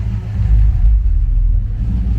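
A custom 1970 Chevrolet Impala with side exhaust, Wilwood brakes and Mickey Thompson rear tires rumbles at a Southern California car cruise, its deep engine note loud and close, swelling slightly midway while idling steadily.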